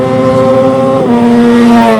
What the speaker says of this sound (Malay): Ni motor aku yang aku flyby hari tu.